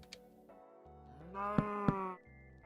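A cow in a video game lowing and bleating while under attack, a drawn-out tonal call that swells and holds, with two sharp hit thuds cutting through it, clear and fairly close.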